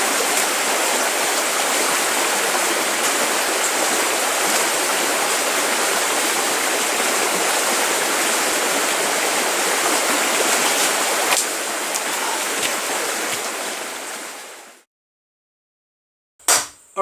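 A creek in New Zealand bush runs in a steady, close, full rushing flow of water for most of the span, then cuts out to near silence with a brief burst right at the end.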